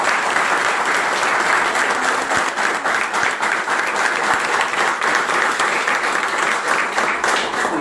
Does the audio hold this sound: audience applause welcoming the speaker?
yes